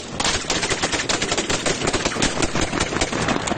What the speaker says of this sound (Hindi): खुलेआम उन पर फायरिंग हो रही